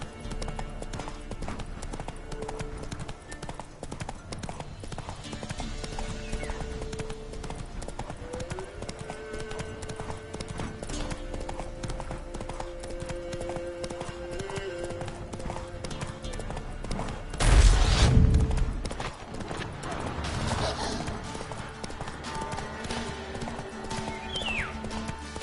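Roach the horse from The Witcher 3 gallops with a steady, rapid clip-clop of hooves under a low rumble of game ambience, then gives a loud neigh near the end.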